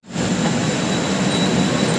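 Shatabdi Express passenger train gives off a steady, loud, unbroken rumbling roar that starts abruptly and holds even throughout, close up, with no voices.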